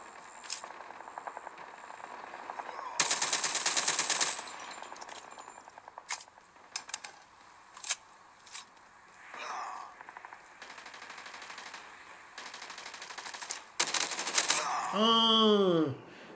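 Video game gunfire with a weapon compared favourably to an assault rifle: a fast rattling burst followed by scattered single shots and clicks amid game effects, ending in a swooping electronic tone.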